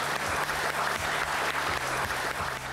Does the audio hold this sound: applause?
yes